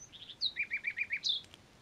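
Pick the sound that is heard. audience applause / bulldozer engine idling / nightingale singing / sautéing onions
nightingale singing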